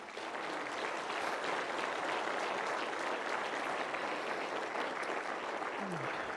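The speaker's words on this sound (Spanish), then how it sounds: "le demos un fuerte aplauso más al Señor" Sustained applause from a large congregation at an evangelistic campaign in Bolivia, a dense, steady wash of clapping holding at even loudness throughout with no break.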